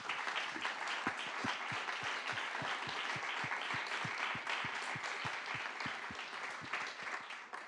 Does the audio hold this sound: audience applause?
yes